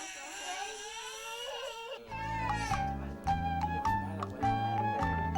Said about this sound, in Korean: 조용한 시골 마을을 깨우는 아이들 소리.